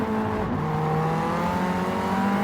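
Race car engines howling steadily in Gran Turismo 7 during a DTM cup race at the Nürburgring GP circuit, a close sustained drone with layered engine tones and a slight pitch shift.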